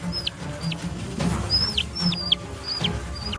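A chicken, prey of a snake, gives repeated high squawking calls, about six sharp rising-falling cries, close and loud over a rustling, scuffling background.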